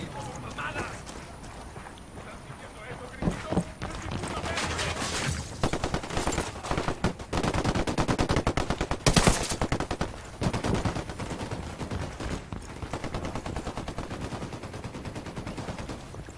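Gunfire in Ghost Recon Wildlands, with bursts of rapid automatic shots clattering in quick rhythmic runs over several seconds, loud and close, with game voices speaking around them.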